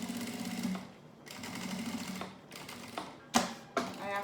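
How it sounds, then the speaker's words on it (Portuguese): A sewing machine stitches a safety seam all around an insulated school lunch bag, running in rapid close bursts broken by short pauses and a couple of sharp clicks. "E a gente vai passar uma costura de segurança aqui por toda a volta da peça novamente."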